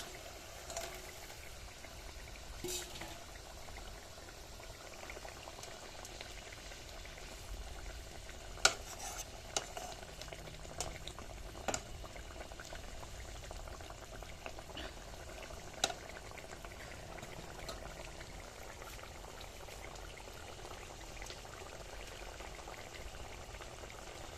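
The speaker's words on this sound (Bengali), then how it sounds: "ঝোল ফুটে গেছে, এবার মাছগুলো দিয়ে দেবো" Rohu fish curry gravy simmering in a pan, a steady soft bubbling under low background hiss, with a few sharp clinks and taps as the fried fish pieces go in.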